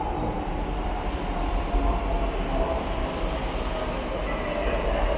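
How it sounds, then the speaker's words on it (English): A Docklands Light Railway train running near the Cutty Sark stop in London, a steady close rumble of wheels and motor with a faint rising whine, continuous throughout. "we're taking the Docklands Light Railway again"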